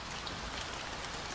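Steady, dense rain hisses evenly in a video game's rainy weather, a continuous close patter of drops with no voices.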